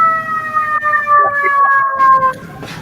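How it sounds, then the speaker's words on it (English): A fire truck siren wails in long, steady tones that slowly sink in pitch, fairly loud and continuous, with some voices faintly underneath. "Sounds like a fire truck."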